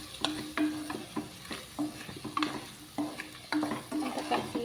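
Chili powder being stirred into a bitter gourd curry, a rhythmic run of spoon scrapes and knocks against the pan over a low simmering sizzle, repeated strokes close by with no talking.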